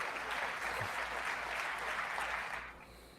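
Steady applause fills a large chamber during the State of the Union address, a sustained dense roar of clapping from a big crowd that thins and fades toward the end.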